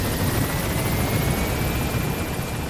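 A helicopter's rotor in the video game Metal Gear Solid V: The Phantom Pain thuds continuously and loudly up close, with a thin steady whine riding over the churning roar.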